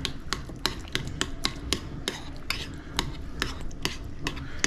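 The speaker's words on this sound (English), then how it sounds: "Mix all that together." A spoon stirs a taco mixture brightened with lime juice in a bowl, making a quiet, regular series of sharp clicks and scrapes about twice a second.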